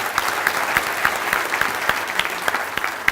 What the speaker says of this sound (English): let everybody give you a round of applause